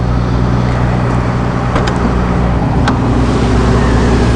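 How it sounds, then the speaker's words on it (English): Steady low engine hum from a 2007 Prevost H345 motorcoach converted to a mobile medical unit, a loud constant drone with a couple of faint clicks partway through. "you virtually don't hear anything other than a hum of the engine here"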